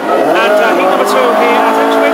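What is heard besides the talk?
classic hot rod cross-flow engine firing up and roaring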